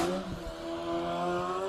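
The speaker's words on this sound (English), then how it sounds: "it's such an interesting noise to hear coming out of an E46 chassis" A BMW E46 drift car with a swapped 2.3 EcoBoost engine runs at a grassroots drift qualifying event, its steady droning engine note holding a sustained pitch at a distance, with faint tire noise underneath.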